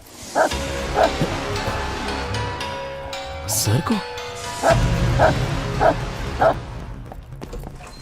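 A tied-up dog barks repeatedly in short loud bursts, close by, with whimpering yips between them, while people talk over and around the barking.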